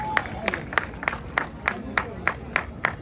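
A festival audience at a prize announcement claps in a steady rhythmic beat, sharp regular claps repeating about three times a second, with a voice speaking over the crowd.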